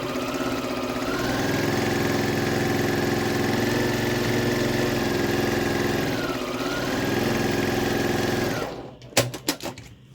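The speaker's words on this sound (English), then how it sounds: "I'm going to go ahead and sew" A sewing machine stitching quilt pieces runs in a steady, loud whirring hum for about eight seconds, then stops, followed by a few brief clicks and thumps.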